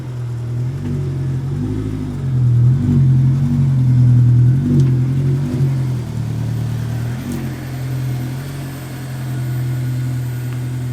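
A Honda S2000 AP1 sports car idles and creeps into a shop, its engine a loud, close, steady hum that swells in a couple of gentle revs before settling back to a lower drone.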